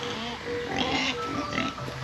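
A pig oinks and grunts in short bursts nearby on a farm, with a voice speaking over the animal sounds.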